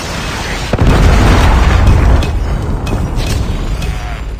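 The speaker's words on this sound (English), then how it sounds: "Predator missile inbound." A Predator missile strike detonates in Call of Duty multiplayer, a loud, deep boom bursting in near one second and rumbling on for about a second and a half before fading into a lingering roar of debris and distant battle noise.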